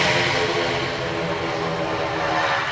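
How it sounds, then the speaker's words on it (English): Propeller aircraft engines drone at an airport, a loud and steady buzzing roar with no break or voices. "Never get over the noise of the props"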